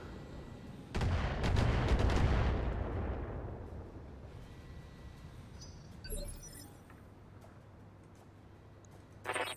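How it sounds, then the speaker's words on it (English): A missile salvo in the mech combat game Battletech lands in a loud, booming burst of explosions that rolls and fades over several seconds, followed by small clinks and a faint rumble. "And another missile salvo."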